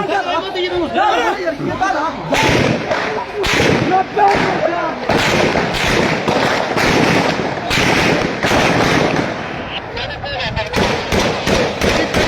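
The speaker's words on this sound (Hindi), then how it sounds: "शदीद किस्म की फायरिंग हो रही है" Heavy gunfire during a clash between two groups at Yadgar Chowk in Gilgit city, sharp repeated cracks and bursts in irregular volleys, loud and near, mixed with crowd chatter and shouting voices throughout.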